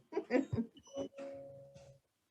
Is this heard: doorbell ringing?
yes